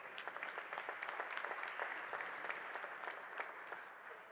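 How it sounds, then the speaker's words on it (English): Steady audience applause fills a hall at an educational research association launch, a dense, even patter of many hands clapping, moderately distant and without talk. "I think we deserve a round of applause"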